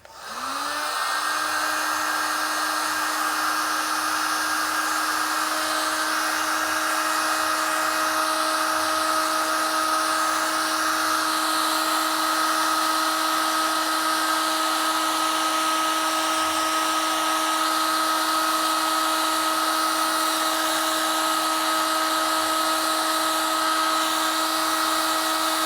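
A heat gun spins up and blows with a steady high whine while warming puff plastisol ink on a screen-printed shirt, running continuously and close with no talk.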